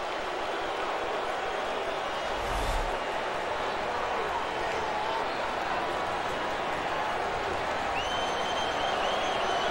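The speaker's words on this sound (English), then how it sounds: "And the crowd gets on home plate umpire Wally Bell." A baseball stadium crowd at a Cardinals at Cubs game gets on the home plate umpire, a steady, dense roar of voices that fills the whole stretch, with a thump early on and a commentator's voice faintly underneath.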